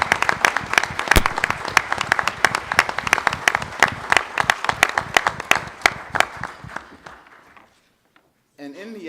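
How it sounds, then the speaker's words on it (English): Audience at a Congressional Black Caucus Forum hosted by the Omega Psi Phi fraternity claps in a dense, lively burst that thins out and fades to silence before a voice starts speaking. "So please applaud my fraternity, Omega Psi Phi, for, again, hosting this Congressional Black Caucus Forum"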